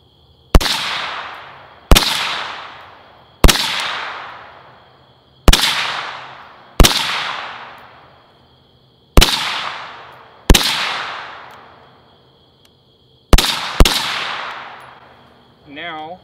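Eight sharp, loud suppressed rifle shots from a 14.5-inch barrel fitted with a Surefire RC2 Mini suppressor, fired at irregular intervals, each crack followed by a short decaying ring, with no talking.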